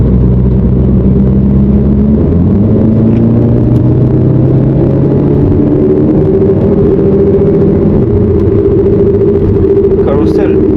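A Golf 7 GTI engine pulls hard on the Nürburgring, a loud rumbling drone whose pitch climbs steadily as the car accelerates, then steps through a gear change and keeps rising.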